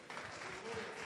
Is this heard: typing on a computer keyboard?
no